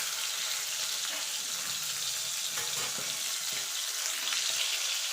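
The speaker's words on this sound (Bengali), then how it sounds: "একটু নাড়াচাড়া দিয়ে এপিট ওপিট করে ভেজে নিলেই হবে।" Pieces of pakal fish frying in hot oil, a continuous close, bright crackling sizzle at even loudness throughout with no voices.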